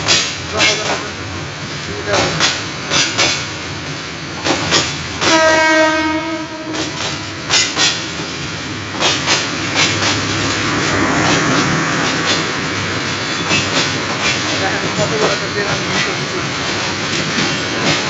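A train runs along a railway line, its wheels clacking rhythmically over the rails. One long horn blast rises midway, and some talk surfaces over the rolling noise.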